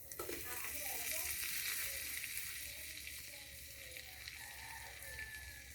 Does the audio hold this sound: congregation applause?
no